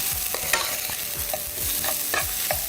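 Onion and green chili browning in a frying pan, with steady close sizzling under repeated stirring and scraping strokes of a spoon against the pan, no voices.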